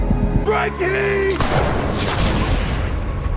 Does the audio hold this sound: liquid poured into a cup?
no